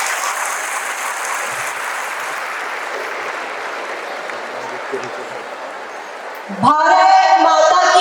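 Audience applause welcoming a chartered accountant speaker onto the stage at a motivational event, steady and sustained throughout before a voice begins speaking near the end.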